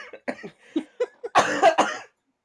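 A woman coughs repeatedly in close, loud bursts, a few short hacks followed by a harsher, longer fit, with brief pauses between them and no speech.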